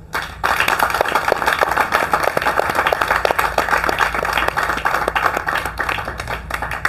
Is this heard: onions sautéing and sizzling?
no